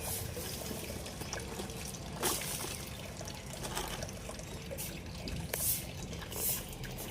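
Freshly dug potatoes are washed in water, with close, quiet sloshing, splashing and trickling and a few brighter splashes through the stretch.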